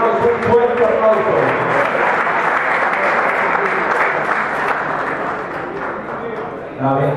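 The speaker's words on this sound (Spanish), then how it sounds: "Le damos un fuerte aplauso." Dense, sustained applause from a crowd fills the room at a sports team's press conference for the 2014 season, steady and loud throughout, thinning slightly right at the end.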